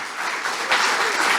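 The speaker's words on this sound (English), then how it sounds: "let's give another round of applause to the Berkeley Unitarian Fellowship" Audience applause at a Berkeley Unitarian Fellowship hall during a campaign kickoff for a California fair elections bill, a dense steady clapping that swells slightly partway through, heard alone.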